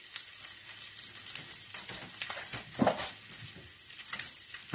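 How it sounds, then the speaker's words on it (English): A handful of greens hitting a hot pan in a backyard cooking setup, a crackling sizzle with sharp spits and pops, one burst standing out near the middle, and light stirring scrapes. "I'm going to toss a handful of these greens in there and see how it goes"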